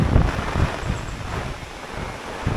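Strong wind blows across a flooded river at a bridge in Rajapur, a loud, steady roar with heavier gusts at the start and again near the end, and no voices.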